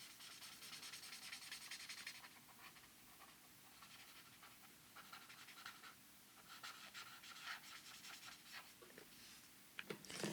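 Arrtx Oros brush-nib pastel markers rubbing and scratching across paper, a soft continuous scrape with bursts of quicker strokes, close and quiet with no talk.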